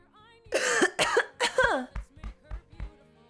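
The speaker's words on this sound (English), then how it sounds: "I just have a really bad cough." Several harsh coughs come in quick succession, followed by a string of shorter, lighter coughs, close to the microphone.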